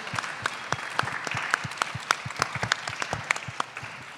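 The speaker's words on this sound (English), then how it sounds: "can we just give a big hand, big round of applause to Melissa" An audience applauds at an art exhibition opening. The clapping is moderately sized and distinct, with individual sharp claps standing out in an uneven rhythm through a few seconds of steady applause.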